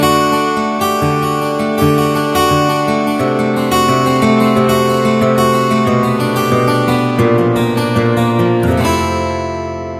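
An electronic keyboard emulates acoustic guitar strumming, with the sustain pedal letting chords ring: repeated plucked-string chord strokes in a steady rhythm, loud and close, ending on a held ringing chord.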